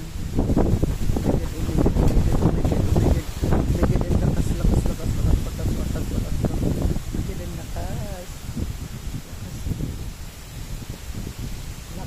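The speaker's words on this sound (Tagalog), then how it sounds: "Dito masifeel mo talaga yung lakas ng hangin." Strong wind buffets the microphone outdoors near a house, a continuous loud roaring rush with gusts, while a person talks through much of it.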